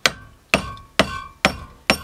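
A hammer drives a wooden dowel in five loud, sharp strikes at an even pace of about two per second, each hit ringing briefly before the next.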